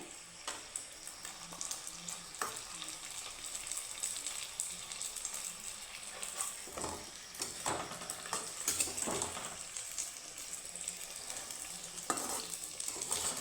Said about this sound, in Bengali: আমি চামচের সাহায্যে এইভাবে ঘুরে ঘুরে একটু ভেজে নিচ্ছি